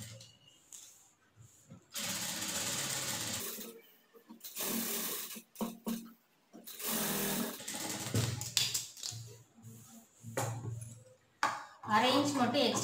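A sewing machine stitches a line along a neckline in short, fast bursts of mechanical whirring separated by pauses, close and moderately loud, with a person talking between runs.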